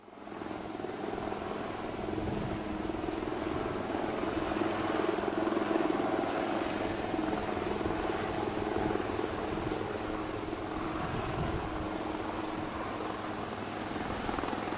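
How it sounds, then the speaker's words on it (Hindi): A UH-3H helicopter hovers overhead during a naval marine commando operation, its engine and rotor giving a loud, continuous drone with no break. "you can also see the UH-3H helicopter providing air cover to the Marine Commandos as they embark upon the ALH once again"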